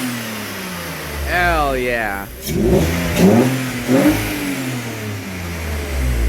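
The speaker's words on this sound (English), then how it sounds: "Rev her up, Jer." BMW E46 engine, just repaired after a misfire, revved in a few rising and falling bursts over a steady idle, close and loud, with a voice cheering partway through.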